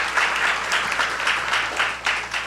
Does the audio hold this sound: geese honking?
no